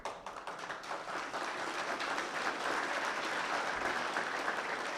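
Sustained applause from a conference audience at a security talk, dense clapping that builds slightly and holds steady throughout, no voices standing out.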